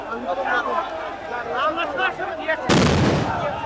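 Sound grenades going off in the middle of a march by dismissed BDR members in Dhaka, heard as a sudden loud blast that bursts in after crowd voices and shouting, close and harsh.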